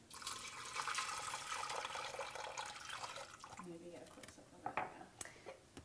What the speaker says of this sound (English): put in enough water to cover them.